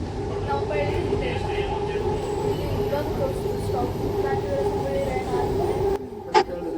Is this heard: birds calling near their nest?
no